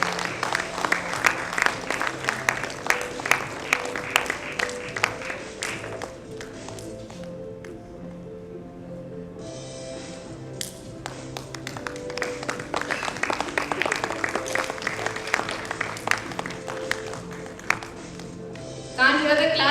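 An audience at a bank's convocation ceremony claps steadily, with crisp individual claps that fade briefly and then pick up again, while a voice speaks intermittently over the applause.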